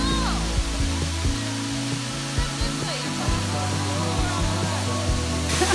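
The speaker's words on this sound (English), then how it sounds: "I can hear the waterfall." A waterfall on a forest trail roars as a broad, steady rush of water, loud and continuous, with low rumbling underneath and faint voices mixed in.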